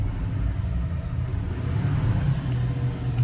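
A Duramax L5P pickup accelerates with a Banks pedal set to track mode, giving a steady, heavy low diesel rumble heard from inside the cab that builds slightly over a few seconds.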